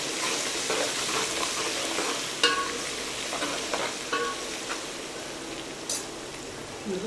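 Ginger paste sizzling in a pan for sambar, a continuous soft frying hiss with repeated scraping stirs and a few sharp utensil taps on the pan, close by.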